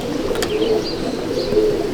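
Domestic pigeons at a loft in Halisahar give soft, continuous cooing, a low steady murmur with a couple of brief higher chirps, close and fairly loud throughout.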